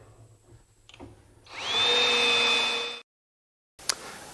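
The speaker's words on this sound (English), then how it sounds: "we can tighten up the pocket hole screws on our diagonal brace" Power drill driving pocket hole screws into a diagonal brace on a heavy-duty outfeed table workbench, with one close whirring burst of about a second and a half that stops abruptly, then a brief knock.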